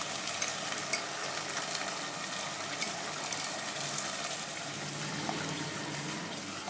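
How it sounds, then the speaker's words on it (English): Butter chicken with curd sizzles steadily in a pan while being stirred, a dense, continuous frying hiss with faint soft scraping, quiet and close, with no talking. "Mix it properly."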